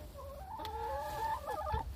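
Chickens cluck and call close by, a few warbling, rising notes over a low background rumble.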